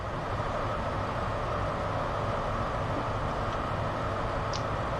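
Train in the Train Sim World 2 video game: a steady, loud rolling rumble with a continuous broad hiss runs unbroken throughout, with no talking.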